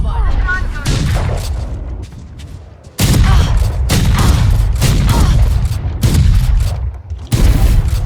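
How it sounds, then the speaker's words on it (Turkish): Explosions and heavy gunfire crash in loud bursts from the Valorant bomb (spike) detonating, booming blasts repeating in close succession after a quieter opening stretch. "Bomba patlar artık."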